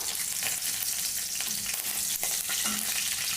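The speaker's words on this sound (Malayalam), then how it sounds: "കറിവേപ്പില ഇട്ട് കൊടുക്കാം" Curry leaves hit hot oil in a pan after mustard seeds, giving a loud, continuous crackling sizzle with sharp pops, close and steady with no talking.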